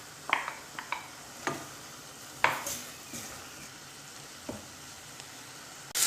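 Onions frying in oil in a pan: a soft, steady background sizzle punctuated by several sharp clinks and scrapes from a utensil stirring against the metal.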